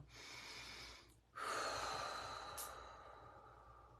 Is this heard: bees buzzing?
no